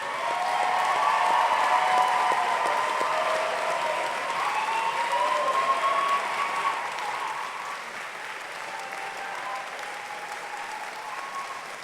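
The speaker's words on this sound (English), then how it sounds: "turn to face your supporters and give them a big round of applause." Graduates at a Bath Spa graduation ceremony applaud their supporters, a large hall full of sustained clapping that swells early, then slowly thins and softens toward the end.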